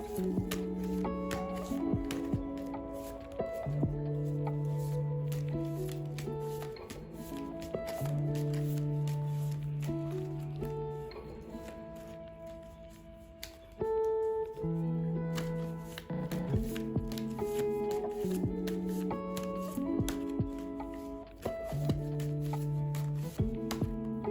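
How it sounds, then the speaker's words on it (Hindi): Tarot cards are shuffled with soft repeated riffles and taps that come in a steady rhythm, close but quiet beneath sustained background music. "चलिए मैं अभी शफल कर लेती हूँ।"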